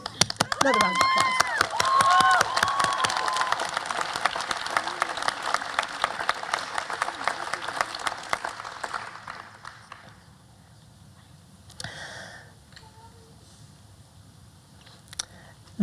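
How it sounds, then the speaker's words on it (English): An audience at a graduation ceremony for the Academy at Penguin Hall breaks into dense, loud applause that stays steady for about nine seconds, then thins and fades to scattered claps and room noise. "Another round of applause."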